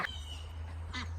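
Farm ducks give a short quack at the start and another, fuller quack near the end, heard fairly close over a steady low hum with no talking.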